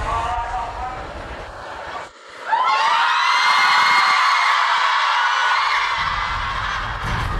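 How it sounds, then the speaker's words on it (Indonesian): Thousands of frenzied fans scream and shriek hysterically in a dense, sustained roar, louder after a brief dip, as a crowd erupts at a ticket sale that has been postponed. "Ribuan fans yang belum mendapatkan tiket pun sontak berteriak-teriak histeris dan"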